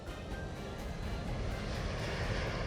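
A logistics drone flies in a video game, giving a steady, dense whirring roar that holds evenly throughout with no voices.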